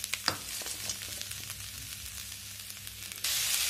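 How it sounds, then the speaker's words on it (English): Coconut and jaggery frying in a heated kadhai for a Bengali puli pitha filling, giving a steady soft sizzle with a few faint clinks early on, then a louder, fuller burst of sizzling near the end. "We will now fry this until our jaggery melts"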